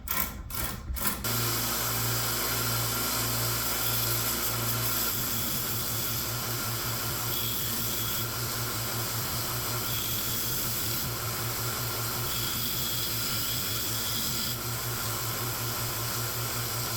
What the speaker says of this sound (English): it's just grinding on the belt grinder